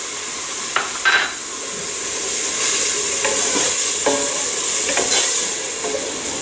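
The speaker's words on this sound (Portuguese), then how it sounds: "vamos mexendo sempre" Chopped tomato sizzles in a pan as a utensil stirs it, with several distinct scraping strokes and clinks over a rising frying hiss, close and fairly loud.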